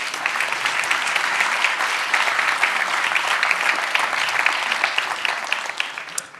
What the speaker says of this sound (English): Big applause, please, for Itamar.